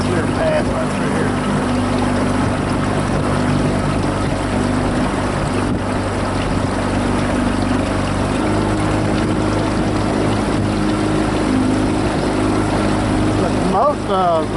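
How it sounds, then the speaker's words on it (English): A motorboat running at speed, a loud, close, steady engine drone with humming tones and water and wind rush throughout, and a voice talking over it. "the boat ran great since I took that seat out. It's the first time I had it up to speed"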